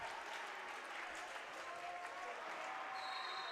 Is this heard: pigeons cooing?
no